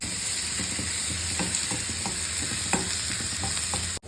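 Mustard seeds, curry leaves and dried red chillies sizzling in hot oil for a chutney tempering, a steady frying hiss broken by sharp pops and crackles scattered throughout, with no talk.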